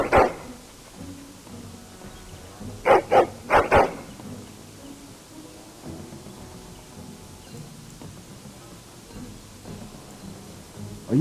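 A dog in the video game Dragon Age: Origins gives a few short, loud barks, one near the start and a cluster of three or four a few seconds in, against a low game ambience.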